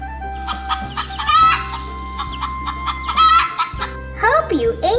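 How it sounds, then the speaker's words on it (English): Hens cluck in an animated farm-animal sound for children, a series of rapid clucking bursts over a steady musical backing, with a brief speaking voice near the end. "hens, hens, H-E-N-S, hens. And the hens say,"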